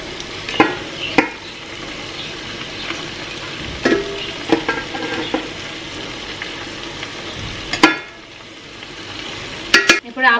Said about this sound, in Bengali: এরপর আমি রাইসটা দিচ্ছি ভালো করে ছড়িয়ে।